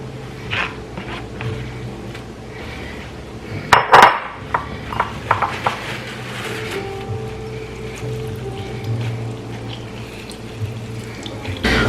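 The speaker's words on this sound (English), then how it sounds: "We're gonna squeeze the water out now." Water splashes and trickles close by as shredded potatoes are wrung out, with a few sharp clinks of kitchenware partway through.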